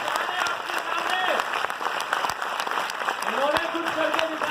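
A crowd claps steadily and densely to welcome someone on stage at an event in Nagpur, with a voice talking loudly over the sustained applause.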